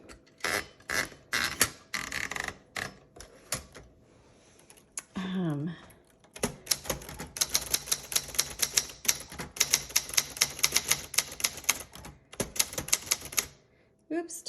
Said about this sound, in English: I'll do some typing on it just so you can hear it